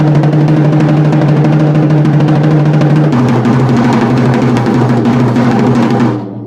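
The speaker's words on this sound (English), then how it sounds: "The double stroke roll I can make sound beefier and louder." A loud, driving double stroke drum roll of rapid, even strokes that blur into a continuous rumble, shifting pitch slightly midway, then cutting off sharply.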